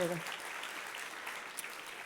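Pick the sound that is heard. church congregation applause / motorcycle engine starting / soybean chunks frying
church congregation applause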